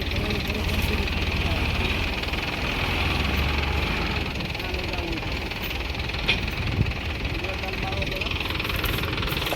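Tractor engine straining while bogged in mud: a loud, steady low rumble with knocking, running continuously for the whole clip, with no pause in the drone.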